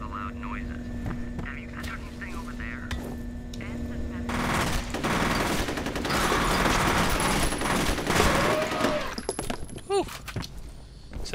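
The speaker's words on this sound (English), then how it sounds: "This appears to be an assault rifle with a double drum mag attached to it." Sustained automatic fire from an assault rifle with a double drum magazine in the shooter game F.E.A.R., loud rapid bursts mixed with other combat noise.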